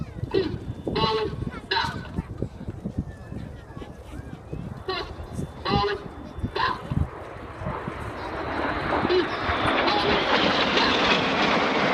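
Red Arrows jets trailing white smoke in a loose diamond formation at the Biggin Hill air show approach with a rising, broad engine roar that swells toward the end, while a commentator talks over the crowd beforehand.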